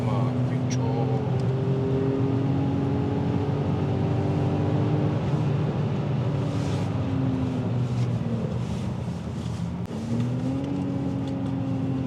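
Engine of a manual BMW 525i E34 driving through heavy Sunday traffic, a steady low drone that holds its pitch, rises and dips slightly, and then climbs again near the end. It runs continuously and close, with wind buffeting the microphone.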